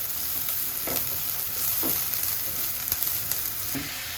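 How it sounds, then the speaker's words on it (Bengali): Chopped onion and garlic fry in a pan, a soft continuous sizzle broken by a few light scraping stirs, close and fairly quiet with no talking. "পেঁয়াজ কুচি আর রসুন কুচি দিয়ে দেওয়া হলো। এখন একটু ভালো করে ভেজে নিয়ে"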